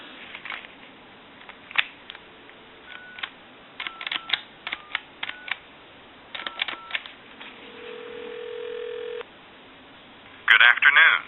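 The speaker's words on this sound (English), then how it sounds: "we'll make a couple of calls with this telephone. Give you some dial tone." A Western Electric Trimline telephone gives a steady dial tone, then a series of dialing tones and clicks from the handset, with a short loud tone burst near the end.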